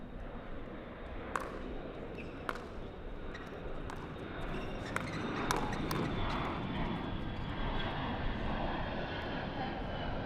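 Fixed-wing airplanes pass overhead near LaGuardia Airport during an outdoor pro mixed doubles pickleball match in New York City, a loud continuous engine roar that swells toward the end, with sharp paddle and ball pops scattered through it.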